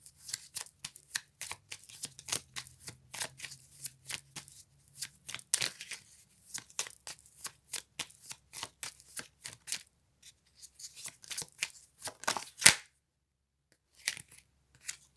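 Tarot cards being shuffled by hand in a quiet room, a long run of rapid, crisp riffling flutters and soft slaps that pause briefly, then resume with a few sharper snaps near the end.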